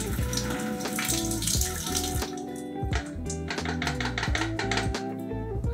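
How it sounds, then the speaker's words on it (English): Developing liquid pours out of a 500 ml black-and-white film developing tank in a close, gurgling stream that splashes and glugs unevenly for several seconds, with nobody speaking. "We're gonna pour this out, and we're gonna see if there's any color at all that comes out of this."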